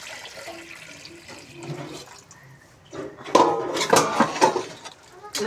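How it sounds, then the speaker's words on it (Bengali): Hot water poured into a pot of braised layer chicken, a splashing, gurgling pour that grows louder in the second half, with faint kitchen clatter before it. "এখন আমি গরম পানিটা দিয়ে দেব।"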